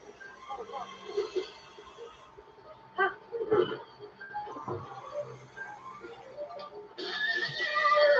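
A horse whinnies amid scattered game sounds and voices in The Legend of Zelda: Breath of the Wild, with a louder burst of noise near the end as the horse is killed.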